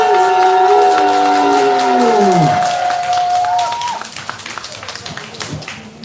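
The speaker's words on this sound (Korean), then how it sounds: "박수과 함께 박수!" A crowd claps and cheers as a sustained tone fades out, then scattered applause continues at moderate volume.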